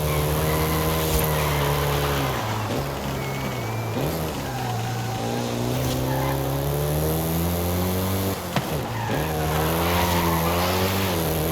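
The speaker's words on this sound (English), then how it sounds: "including the Golf GTI you're driving right now" A Volkswagen Golf GTI races in Forza Horizon 5 with a loud, steady engine drone. The pitch climbs and drops with each gear change, and the tires squeal now and then.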